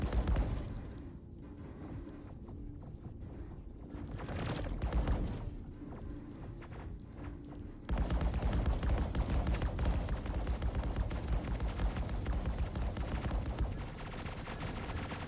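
Ship turret gunfire in the space video game Star Citizen, heavy pounding bursts that turn into a loud continuous rattle in the second half over a rumbling low drone, with no talk.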